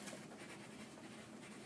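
A pencil scratches softly across cardboard as a name is written in an art classroom making collograph prints, a steady faint rubbing with no talk.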